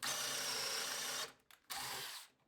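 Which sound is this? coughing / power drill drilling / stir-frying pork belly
power drill drilling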